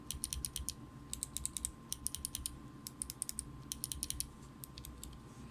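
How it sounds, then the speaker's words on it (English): Clicky mechanical keyboard switches, including Otema Blues, Box Whites, Box Navies and a custom extra-loud switch, pressed in quick bursts of sharp, bright clicks. The clicks are close and crisp over a low background hum, with no talking. "This is the Otema Blues, Box Whites, Box Navies, and the Franklin switch that I created that I claim to be the loudest switch ever."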